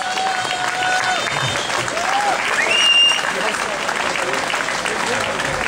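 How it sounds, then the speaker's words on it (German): Steady crowd applause at an outdoor street demonstration in Göppingen, dense clapping throughout with a few whistles and shouts rising over it. "Ihr dürft ihr mal kurz Applaus spenden."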